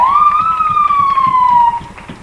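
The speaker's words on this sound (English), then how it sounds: "Wave the siren, bud." A single loud, close U.S. Border Patrol vehicle siren wail at a Labor Day parade rises quickly, then slowly falls in pitch before cutting off, with crowd noise in the background.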